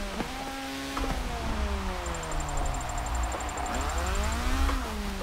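A drift car in the racing game Forza 7 drives on a rain-soaked track, its engine droning and rising and falling in pitch as it revs through slides, with a faint steady whine running above.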